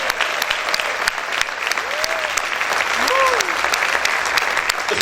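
Church congregation applauding loudly during a sermon, a steady wash of clapping with scattered cries and whoops rising over it.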